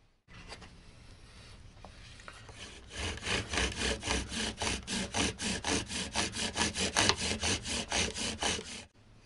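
Steady back-and-forth rubbing of wood on wood from a bow drill making friction fire, a rhythmic rasping stroke that speeds up and grows louder before stopping abruptly.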